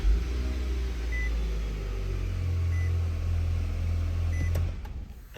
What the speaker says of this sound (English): And then you'll hear it beep and it starts to glow.